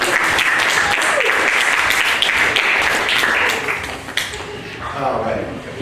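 An audience at a hypnotist show following a prom breaks into steady, dense applause, with a voice talking over the clapping throughout.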